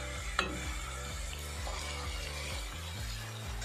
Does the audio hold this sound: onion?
yes